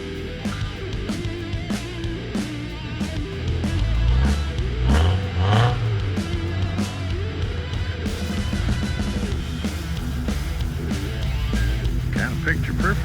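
Truck engine revving in snow, rising and falling through several throttle bursts, with people talking over it throughout.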